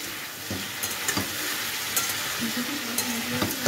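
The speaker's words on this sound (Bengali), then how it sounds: "চিকেনটা ভালো করে আমি ভেজে রান্না করি" Chicken and potato pieces fry in a pan with a steady, close sizzle, broken by occasional clinks and stirring scrapes.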